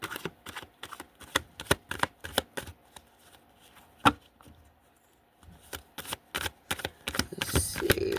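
Tarot cards are shuffled close by in quick, crisp riffling bursts. There are several rapid flurries, then a short pause, then more shuffling that ends in a denser rustle.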